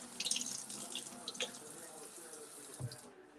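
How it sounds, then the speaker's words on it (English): Warm tap water running from a faucet over makeup brushes at a sink, a faint steady trickle with small splashes and drips, heard close and quiet. "I like to try to run the brushes under some water, some warm water first"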